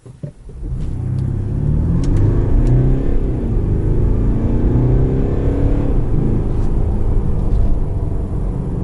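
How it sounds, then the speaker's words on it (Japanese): A Mercedes-Benz GLC 220d diesel SUV accelerates at full throttle to about 50 km/h on a rough winding road, its engine note rising in a steady, loud interior drone with road rumble and no speech. "50キロぐらいまでフル加速してみます。"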